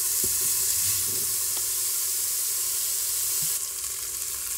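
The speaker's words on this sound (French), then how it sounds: "Et je fais revenir pendant 3 minutes en mélangeant" Courgette and bacon lardons sauté in a Cookeo multicooker while being stirred, giving a steady close sizzle broken by faint scraping stirs, with no talking.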